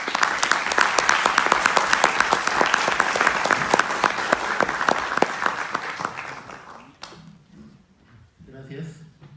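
Audience at a book presentation in a university law faculty breaks into loud, dense clapping that thins out and fades after about six seconds, leaving scattered claps and room noise.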